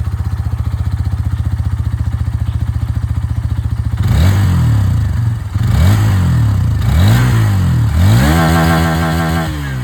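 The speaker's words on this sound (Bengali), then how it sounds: "আপনারা এক্সট্রিমের যে এখানে আওয়াজ সেটা আপনারা শুনে নিয়েছেন।" A 2024 Hero Xtreme 160R 4V motorcycle idles with a steady low exhaust thrum. Several sharp throttle revs follow, each climbing and falling back, the last held higher, all loud and close.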